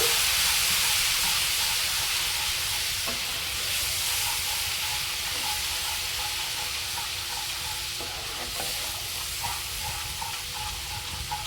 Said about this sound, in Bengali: এবার আমি এখানে সামান্য জল দিয়ে দেব জল দিয়ে মশলাটা ভালো করে কষিয়ে নেব